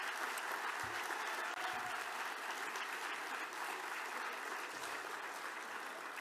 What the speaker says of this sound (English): give again, one more time, all of our nominees and winners a great round of applause.